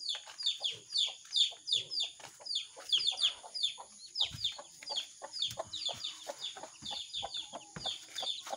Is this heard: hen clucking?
yes